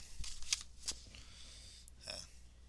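Tarot cards being shuffled by hand, a few quiet crisp riffles and slaps spread across a few seconds, close and soft with faint background.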